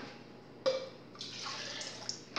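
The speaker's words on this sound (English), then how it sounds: "you stick water in here." Water poured into a thermal heater pack for a ration meal, an abrupt splash followed by a steady hissing trickle that changes pitch as it fills, close and alone.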